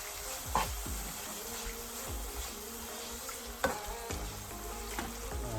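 Cassava chips, also called mogo chips, sizzling in a pan as Kashmiri red chili powder is stirred through, a soft steady fizz broken by a few sharp scrape and clatter accents from the spoon, fairly quiet.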